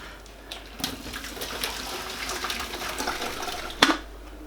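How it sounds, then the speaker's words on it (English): Water is tipped out of a kettle, a quiet, steady splashing pour that ends with a brief clunk. "So I'm just going to pour this water away."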